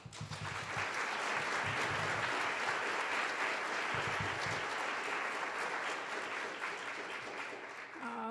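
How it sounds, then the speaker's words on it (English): An audience at a literary evening event applauds steadily, a dense wash of clapping hands that holds for several seconds and begins to thin near the end. "and so I want to give Lorraine a round of applause."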